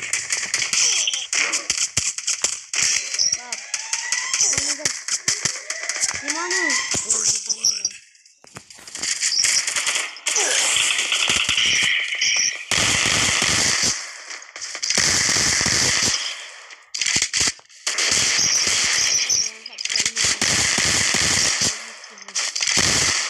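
Bursts of rapid gunfire from a video game fill the whole stretch, crackling and loud with dense repeated shots, broken by a few short pauses, while a voice talks briefly underneath.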